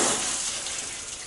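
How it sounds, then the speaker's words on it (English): Water gushes from a hose into solar hot water tanks in a steady, close rush that holds level for a moment, with no voices. "We're going to start filling the tanks."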